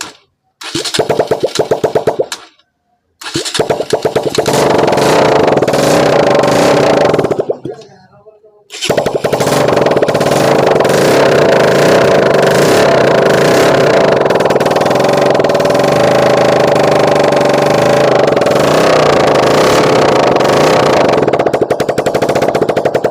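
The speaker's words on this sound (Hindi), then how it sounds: "अब फाइनल हमारा इंजन स्टार्ट हो गया है" A rebuilt Bajaj NS 200 motorcycle engine cranks briefly, cuts out, then catches and runs steadily at close range with a loud, continuous rapid-firing putter, its silencer not yet tightened.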